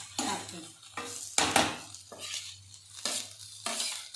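Tomatoes cooking with fried masala in a pan for a hagalkai (bitter gourd) palya, heard as repeated scraping stirs of a spoon against the pan in bursts over a faint steady sizzle, close and fairly quiet.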